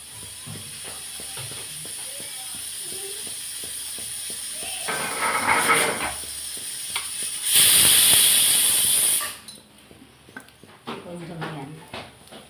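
A pressure cooker on the stove releases steam in a loud hissing burst that swells, holds for a couple of seconds and cuts off, with kitchen clatter and a speaking voice around it.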